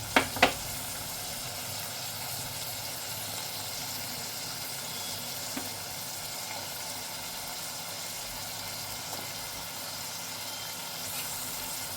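Prawns and potatoes fry in a pan for a spicy Konkan-style curry, giving a steady, even sizzle. A couple of sharp clatters come at the start, followed by faint occasional stirring clicks.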